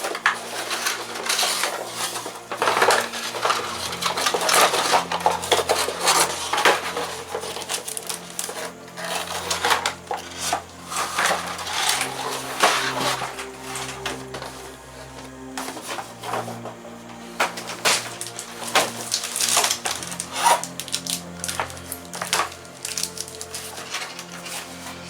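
A Roccat Ryos MK Pro mechanical keyboard is unboxed, with continuous crinkling, rustling and clattering of packaging and plastic handled close up, busy and uneven with no talk over it.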